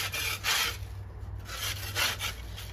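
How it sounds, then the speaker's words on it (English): A putty knife scrapes grime off a gas grill in short rasping strokes, about four bursts close up with brief pauses between them over a low steady hum. "little scrape and get all that stuff off"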